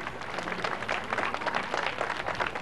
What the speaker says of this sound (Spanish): Y un fuerte aplauso, por supuesto,